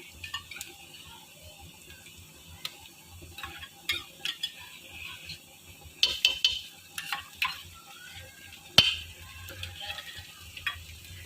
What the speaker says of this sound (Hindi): ये देखें लहसुन, 2 चम्मच डालने हैं लहसुन अदरक।